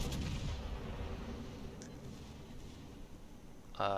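Heavy naval gunfire from warships trading salvos in a naval combat video game, with the Vermont battleship firing, sounding as a continuous low rumbling roar of distant booms and a sharper louder blast near the end.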